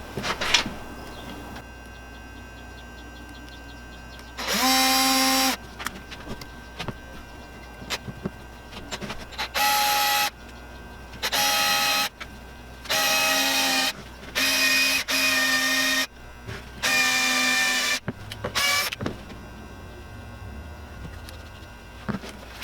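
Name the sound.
power drill drilling pilot hole through wooden handle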